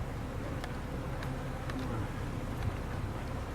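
A faint, steady buzz of a swarm of honeybees being introduced to a new Langstroth hive hums throughout, quiet and continuous, with a few soft clicks and no voices.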